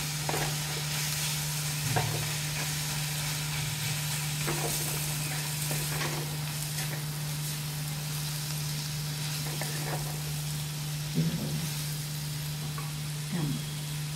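Vegetables cooking uncovered on a low flame in a pan with dried red chillies, a soft continuous sizzle with intermittent stirring scrapes, close by, under a steady low hum and faint background voices.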